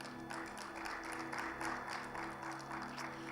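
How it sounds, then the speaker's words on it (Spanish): A congregation in a Bible seminary class applauding the Lord, a sustained patter of many hands clapping with some rhythmic pulses, moderately loud, over a low steady hum. "¿Cuánto le dan un fuerte aplauso al Señor,"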